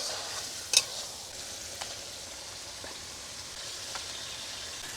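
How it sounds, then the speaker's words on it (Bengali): Goose meat sautéing in a pot over a fire in the Sundarban forest, a faint steady sizzle with a few sharp scrapes of stirring spaced through it. "মাংস কষানো চলছে এখনো কষানো চলছে"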